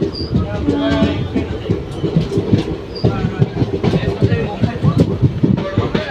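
A train arriving at Sihor station rumbles past close by, its wheels beating a steady clickety-clack on the rails, with faint voices mixed into the noise.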